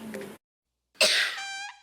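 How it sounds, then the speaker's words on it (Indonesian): Coughing in a Formula 44 cough medicine advert: a short human cough burst, then after a gap a louder harsh cough that trails into a tonal, throaty vocal sound, close and clear. "Batuk dan pilek mengganggu keluarga."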